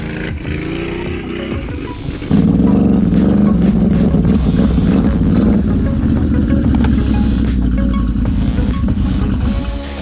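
A motorcycle engine runs under throttle, a steady mid-level drone that jumps to a loud, sustained roar about two seconds in and holds there with a few sharp clicks over it.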